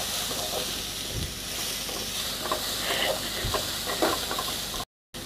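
Carrots and beans sautéing in hot oil in a pan, a steady close sizzle and hiss with occasional stirring scrapes, briefly cutting out near the end.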